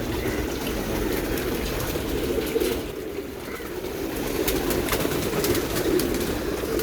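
Racing pigeons coo softly and repeatedly in a low, rolling murmur, several birds close by after bathing, with faint watery splashes in the background, at a loft in Mirpur, Dhaka.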